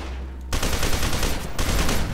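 Sustained gunfire in the first-person shooter F.E.A.R. 2: Project Origin, a loud dense burst of rapid automatic fire that starts abruptly and rattles on with barely a break.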